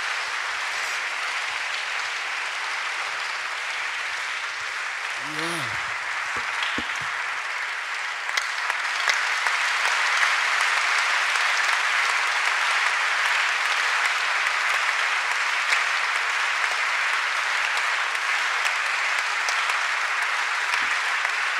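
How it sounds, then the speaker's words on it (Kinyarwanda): Church congregation at a Sunday service applauding, a long dense wash of clapping that builds louder midway and continues steadily, with a brief voice near the start. "murakoze cyane guha imana amashyi"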